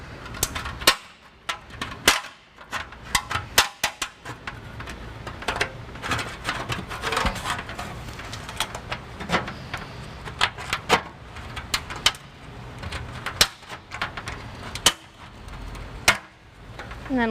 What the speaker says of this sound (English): I'm going to use tin snips to remove just this piece of the heat shield